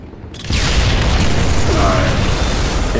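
Rocket explosions in an online shooter match, a sudden loud boom after a brief quiet moment, then a sustained roaring blast and rumbling debris that stays loud throughout.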